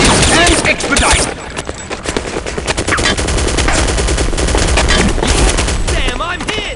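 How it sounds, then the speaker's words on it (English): Machine gun emplacement in Counter-Strike: Condition Zero Deleted Scenes hammering out dense, continuous automatic bursts, loud and close, with chaotic battle noise layered over the firing. "That gun emplacement is ripping us to shreds!"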